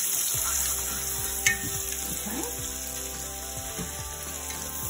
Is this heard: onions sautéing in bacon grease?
yes